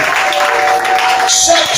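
A church congregation bursts into loud cheering and applause for the Lord, a dense wash of clapping with shouted voices and whoops rising over it.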